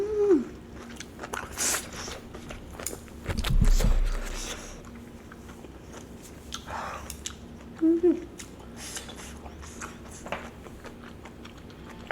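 Kimchi being chewed and eaten during a kimchi pork bone soup meal, with soft close mouth sounds, a few clinks and brief bursts of handling noise over a quiet background.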